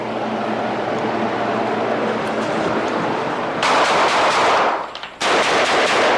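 A team fires guns during a room-clearing drill, with loud, close bursts of rapid gunfire that pause briefly before another sustained volley.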